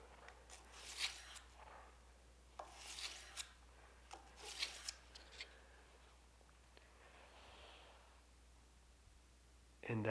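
A copper knife guard for a dagger handle being sanded to a satin finish, slow one-direction strokes of abrasive giving soft, faint rasping rubs in irregular bursts, quiet and close.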